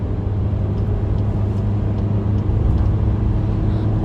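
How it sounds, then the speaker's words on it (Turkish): A 2021 Volkswagen Caddy with a 2.0 engine climbs a hill under light throttle. A steady, loud low engine drone and road rumble come from inside the cabin, with no voices. "Şu an hafif hafif gaza basıyorum."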